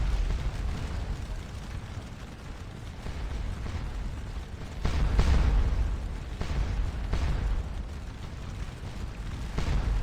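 Artillery booming in Scourge of War Waterloo, a Napoleonic battle near Wavre: several dull, distant cannon blasts at irregular intervals over a constant rumbling battlefield ambience.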